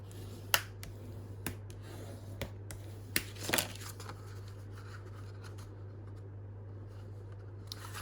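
Coffee-dyed paper is folded down by hand to form a closure flap on a junk journal pocket, heard as a few sharp, close creases and crackles over a quiet steady hum.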